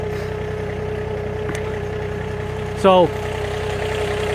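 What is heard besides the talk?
Massey Ferguson GC 2610 tractor engine idling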